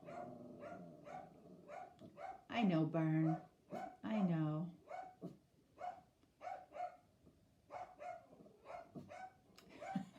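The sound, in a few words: dog barking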